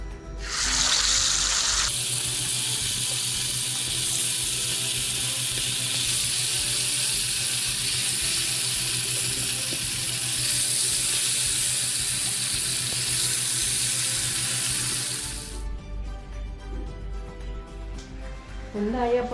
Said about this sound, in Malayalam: അപ്പോൾ നമുക്ക് മീൻ ഫ്രൈ ആക്കാം.